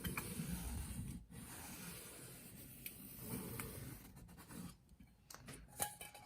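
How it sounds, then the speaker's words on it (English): A pencil tracing around a circle on paper for a color theory mandala, a soft, close scratching that continues for several seconds with small pauses. "I'm just going to take my pencil and trace around my circle"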